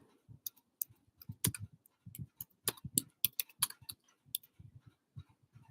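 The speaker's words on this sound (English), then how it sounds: "I was typing out, getting ready to ask y'all if you could see me again" Computer keyboard typing in quick irregular bursts of close, crisp key clicks with short pauses between runs, no talking.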